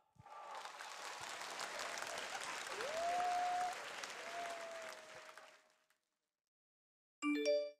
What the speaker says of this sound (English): I want you to go absolutely crazy with your applause